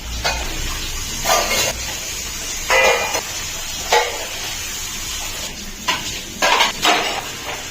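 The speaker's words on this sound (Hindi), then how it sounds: "तो बर्तन वॉश हो गए थे" Dishes, pots and utensils being washed at a kitchen sink, with a steady background of running water broken by repeated clanks and clatters of metal and crockery, close and fairly loud, with no one speaking.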